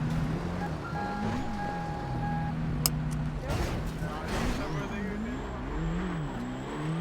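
Car engine revving in a video game, the pitch rising and falling in waves under steady talk, with brief engine whooshes and a high tone near the end.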